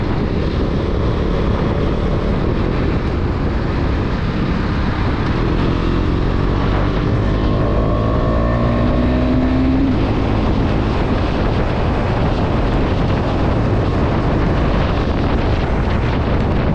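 A KTM Duke 250 BS6 motorcycle with the dB killer removed from its exhaust, loud and close, its engine note climbing through a long rev midway before settling back into a rough, throaty idle.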